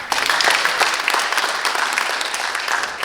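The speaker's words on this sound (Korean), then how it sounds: "박수해 주시기 바랍니다" Members of the public at a civic debate on relocating a city hall give loud, continuous applause, a thick wash of many hands clapping together throughout.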